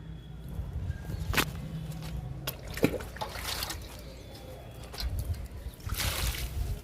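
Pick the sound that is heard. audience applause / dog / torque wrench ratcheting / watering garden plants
watering garden plants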